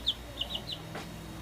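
Backyard laying flock of chickens giving a few short, high chirping peeps and clucks close by in quick succession, then a quiet pause.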